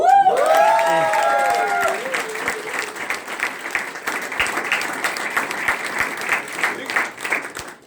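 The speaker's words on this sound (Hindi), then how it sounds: "जोरदार तालियों के साथ।" A crowd claps loudly at a company stage event at the Vestige head office, a brief vocal or musical tone opening the moment before sustained applause and some cheering take over and carry on at an even level.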